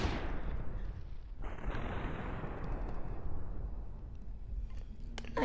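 Sustained barrage of heavy gunfire and explosive blasts in a shooter video game, dense and continuous with no pauses, loud and close throughout.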